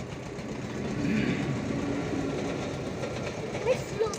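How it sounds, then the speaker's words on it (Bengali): A train pulls into a station with a broad, steady rumble of engine and rolling wagons that swells slightly and holds, with faint voices and station bustle underneath. "আমাদের ট্রেন মহাশয় এসে উপস্থিত হয়ে গেছেন। তো সেই আওয়াজটা তোমরা একটু শুনে নাও।"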